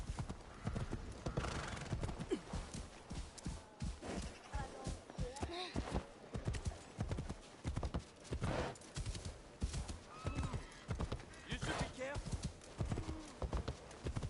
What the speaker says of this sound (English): Everybody out of the way. I'm on a horse.